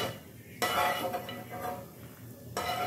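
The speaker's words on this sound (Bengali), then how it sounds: "এখন বাদামগুলো আমি তেল থেকে তুলে নিচ্ছি" A metal utensil scrapes and clinks against a pan while fried peanuts are lifted out of hot oil, with a faint sizzle underneath and two sharper bursts of stirring noise.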